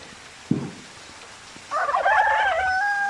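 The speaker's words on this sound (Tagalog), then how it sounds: "Oh, there's a live chicken." A chicken gives a short, loud crowing call after a brief knock, outdoors with some background noise.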